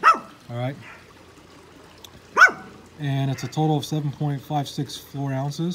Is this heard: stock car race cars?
no